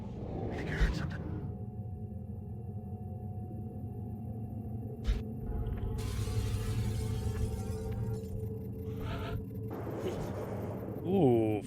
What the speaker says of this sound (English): And they're smashing windows, so we sort of know where they are